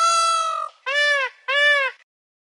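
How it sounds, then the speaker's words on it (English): A peahen gives three loud, clear, nasal calls close by. The first is the longest, and the next two are shorter and evenly spaced, followed by silence. "Peahen."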